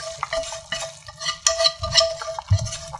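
Roux of flour and paprika being stirred into a pot of Serbian bean soup (pasulj), busy close scraping and clinking of a spoon against the pot with light bubbling underneath, no speech.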